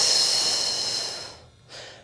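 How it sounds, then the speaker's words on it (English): A long, full breathy exhale during a Pilates exercise, close and steady, fading out, followed by a short second puff of breath. "Deep breath in as you lower. Exhale, extend, extend. Finish with a full exhale."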